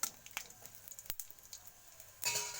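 A bay leaf, cumin and dried chilli tempering frying in oil for a fig curry, giving faint scattered crackles and pops that swell into a brief louder sizzle at the end.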